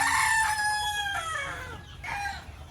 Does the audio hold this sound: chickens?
yes